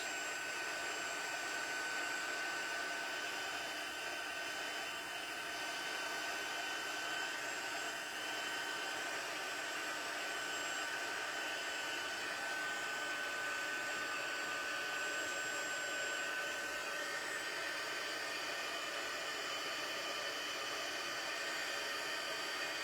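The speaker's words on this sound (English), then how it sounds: "I like to hold it in one spot, see how it turns, and then I slowly move the heat tool around" Embossing heat gun blowing hot air over a handmade gingerbread man card, a steady, fairly quiet whirring hiss that holds constant throughout, with no talking.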